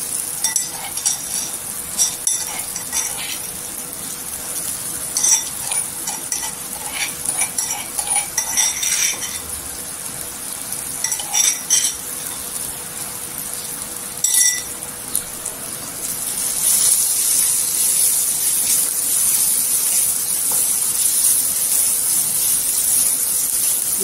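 Brinjal thecha of crushed garlic and green chilli frying in oil, a steady hiss of sautéing beneath scraping and clinking of a spatula stirring against the pan, the sizzle growing louder toward the end.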